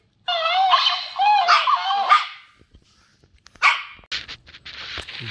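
A 10-week-old Sheltie puppy gives a series of high, squeaky yips and barks up close, pausing briefly before more sharp, excited yaps.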